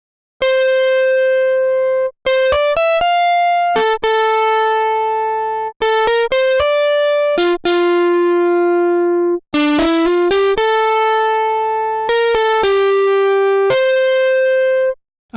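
Distorted electric guitar plays a melodic line of sustained, buzzy notes with short breaks between phrases, loud and up close.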